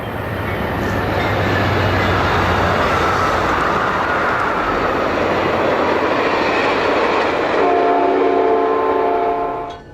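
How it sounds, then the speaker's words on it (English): The Amtrak Saluki passenger train roars past at speed north of Carbondale, Illinois, loud and close, with a horn sounding near the end before the rush fades. "We catch the train at speed north of Carbondale."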